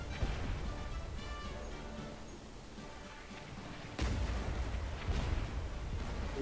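Heavy booms of cannon fire in the game Blazing Sails, a loud blast landing partway through over constant rumbling battle noise.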